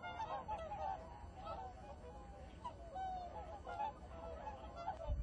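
Migratory geese wintering by the shore at Eulsukdo honk repeatedly at a distance, their scattered calls rising over a low, constant background rumble.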